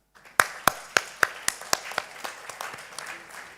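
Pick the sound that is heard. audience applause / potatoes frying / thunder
audience applause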